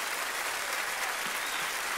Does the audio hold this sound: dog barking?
no